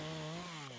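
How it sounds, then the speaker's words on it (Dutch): A chainsaw cuts branches high in a large spruce, worked by a climbing arborist in Voorburg; the engine holds a steady, loud, close whine for the whole short stretch with no talk. "Je zaagt alle takken boven jouw macht, zaag je weg."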